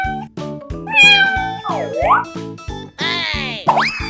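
Cartoonish cat meows from a 3D animal sliding game, several bright pitch-bending calls and springy sound effects riding over a steady thumping music beat.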